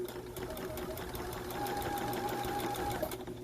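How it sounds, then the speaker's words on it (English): Sewing machine runs steadily, stitching a fabric face mask with a fast, even mechanical whir up close, continuous for a few seconds with no talk over it. "And then you're going to turn and finish sewing all the way to the end."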